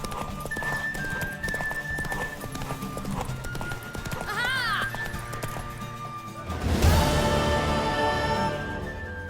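A horse gallops during a race in The Witcher 3: Wild Hunt, a steady drumming of hooves with a whinny midway, under game music and voices calling out, building to a louder rush near the end.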